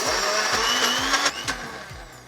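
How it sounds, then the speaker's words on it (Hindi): An Agaro Regal blender with a 400-watt copper motor whirs loudly and steadily while blending brown sugar, its pitch wavering and dropping slightly near the end as the motor slows. "Now we will blend it till sugar dissolves."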